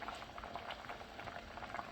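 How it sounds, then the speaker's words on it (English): Sambar boiling in a pot, a continuous close bubbling and popping of thick liquid at a steady, lively rhythm, heard alone. "Meanwhile, our sambar is boiling."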